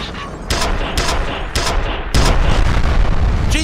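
Loud video game gunfire in a spooky night setting: repeated sharp bursts at steady intervals, then dense continuous shooting, with no talk.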